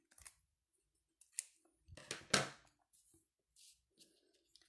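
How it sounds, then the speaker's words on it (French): Scissors snip through card stock in a few separate cuts with pauses between, close up and crisp, with no talking. "je vais venir découper ce qui dépasse de mon fond de carte"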